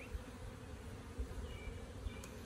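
Honeybees buzzing around beehives during an inspection of a newly installed package colony, a faint steady droning hum throughout, with no talking.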